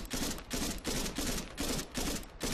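Gunfire raking a helicopter wreck in Arma 3, six loud, evenly spaced automatic bursts in quick succession, close and unbroken by talk.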